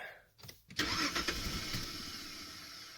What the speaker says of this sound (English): Oh, car doesn't want to start.